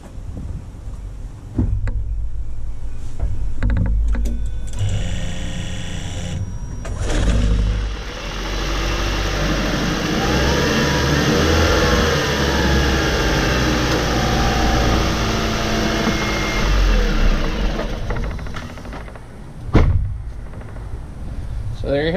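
A Ford Escape Hybrid engine, with newly replaced ignition coils, starts and settles into a steady idle that runs for about twenty seconds, close to the microphone and joined by some wind noise.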